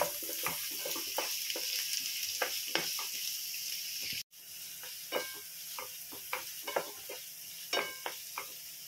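Thinly sliced onions frying in a pan for homemade veg pasta, a soft steady sizzle with repeated light scrapes and taps of stirring, quiet and close, briefly cutting out once.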